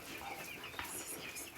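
Fourteen-day-old farm chickens clucking softly at a distance, a steady murmur of light calls with one brief flutter, no voices.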